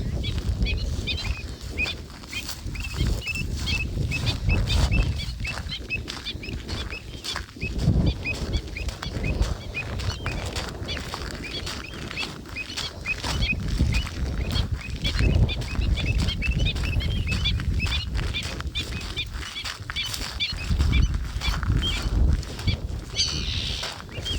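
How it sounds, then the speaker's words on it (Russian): Birds flap and call in the open over a steady outdoor rumble on a wild spit of the Azov Sea coast, wingbeats and scattered cries continuing throughout at moderate loudness. "И птицы начали летать, кричать."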